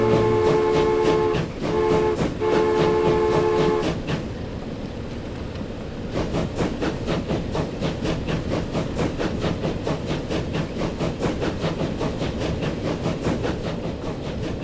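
Game train from Transport Fever 2 rolling steadily, with a sustained horn-like harmonic tone early on, then a continuous rumble and rhythmic clatter of wheels on track for the rest of the stretch, fairly loud and without talk.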